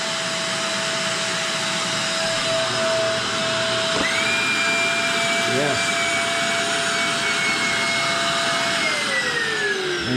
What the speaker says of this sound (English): And so you can turn the vacuum off almost immediately.